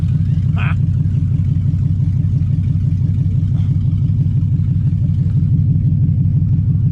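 An LS-swapped Camaro engine idles with a steady low rumble, close and continuous, while a brief faint click sounds early on.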